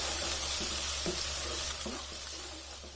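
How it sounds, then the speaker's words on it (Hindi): Steady frying hiss of garlic ginger paste cooking in a hot pan, with a few soft stirring scrapes, fairly loud and close, no talking. "अब इस लहसुन और अदरक के पेस्ट को इसमें 1 से 2 मिनट तक ही फ्राई होने देना है।"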